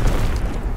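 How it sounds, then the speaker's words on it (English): Enemy artillery shells explode in a Call of Duty: WWII multiplayer match on the USS Texas map. It is a brief, loud, low rumbling blast with no speech. "Incoming enemy artillery!"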